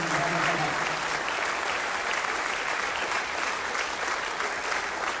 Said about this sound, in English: a round of applause for Tim and for David Peckham